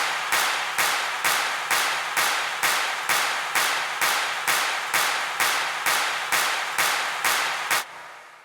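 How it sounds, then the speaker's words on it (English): Stadium clap samples in a bigroom EDM climax strike in a steady even pulse, about fifteen sharp, loud, reverberant hits, each decaying before the next, ending shortly before the close. "these stadium claps"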